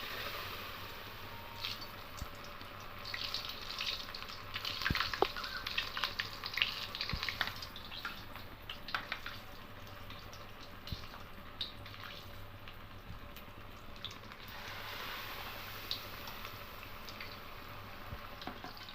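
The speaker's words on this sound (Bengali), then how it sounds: "এবার এগুলোকে তেলে ভেজে নেব" Egg, cheese and bread sandwiches frying in hot white oil in a wok, giving a steady close sizzle and crackle with scattered pops and brief swells in intensity throughout, with no one speaking.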